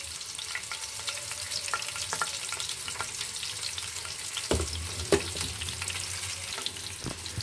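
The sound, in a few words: mustard seeds and cumin sizzling in oil for fish curry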